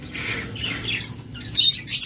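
High, thin chirps from ring-necked high-mutation lovebirds at a breeding farm, a few short bright calls rising near the end over a steady low background hum, fairly close and moderately loud.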